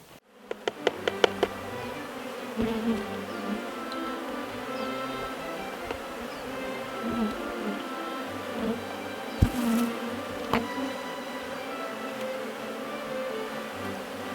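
A swarm of bees clustered around branches buzzes continuously near a hive box, a dense steady drone with a few sharp knocks at the start and occasional thumps as the box is handled.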